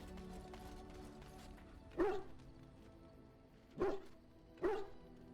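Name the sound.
dog barking in video game Dragon Age: Origins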